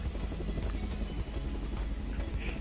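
A video game helicopter gives off a dense, continuous rotor thrum and engine roar that fills the whole stretch at steady loudness, with no speech over it.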